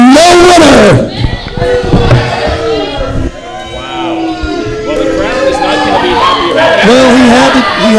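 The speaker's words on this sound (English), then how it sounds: "And the crowd's chanting, let them fight" A wrestling crowd at a live show clamours loudly throughout after a double disqualification, with shouting and crowd voices rising and falling over commentators talking.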